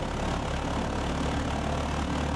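A small steam engine runs hard on a large quantity of steam, a steady, loud, close whirring roar that holds even throughout with no voices over it.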